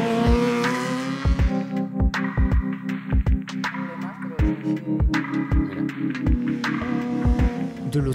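Motorcycles on a race track rev and roar loudly and continuously, with engine notes rising and falling and sharp bursts repeating as they ride past at speed.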